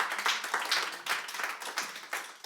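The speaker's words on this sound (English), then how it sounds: "Can we give them a round of applause, please?" Audience applause at an onstage discussion event, a steady wash of many hands clapping with slight swells, fairly close and without talk over it.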